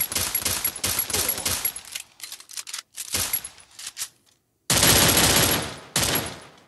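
Bursts of rapid gunfire in the mobile battle game Free Fire, loud and close, coming in several volleys separated by short silent gaps.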